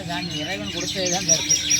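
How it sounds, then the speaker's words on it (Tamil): Many small birds chirp and twitter together in a tree in Madurai district, a dense, lively chorus, close and fairly loud, with some voices in the background. "பறவை இங்கே தான் வருது இந்த மரத்தில் பார்த்தீங்கன்னா ஒரே சத்தமாக இருக்குது"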